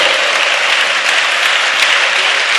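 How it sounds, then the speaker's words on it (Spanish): A church congregation breaks into loud, dense, sustained applause, a continuous wash of clapping filling the room with no speech over it. "Un aplauso para el Señor."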